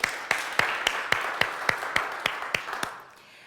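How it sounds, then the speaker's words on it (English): A lone pair of hands claps steadily about ten times at an even pace, crisp and fairly close, then stops, leaving a quiet room; no voices heard. "give yourself a round of applause"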